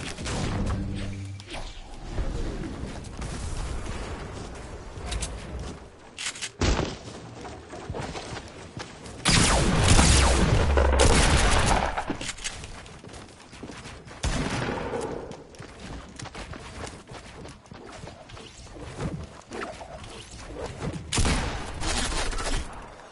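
Rapid gunfire from a six shooter in Fortnite on PS4, a dense run of loud bursts through the clip that is heaviest around the middle, set against busy game noise.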